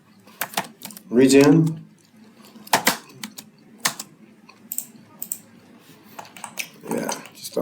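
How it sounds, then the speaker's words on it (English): Scattered keystrokes on a computer keyboard as a short command is typed into drafting software while building wall sections, with someone speaking over and between the taps. "Whenever it doesn't work properly, just type in R-E-G-E-N."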